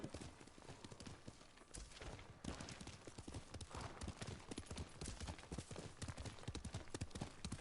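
Horse hooves clip-clop rapidly and steadily in the Ghost of Tsushima video game, a dense galloping rhythm heard up close at low volume with faint background game noise.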